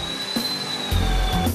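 Power drill boring holes into a mitred wooden picture frame using a joining jig, with a steady whine and a heavier low burst of drilling near the end, close and loud.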